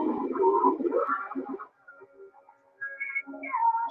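A shortwave pirate station's upper sideband signal tuned without single sideband mode, coming through as garbled, whistly, pitch-shifted warbles that drop out briefly midway before resuming, with no clear voice.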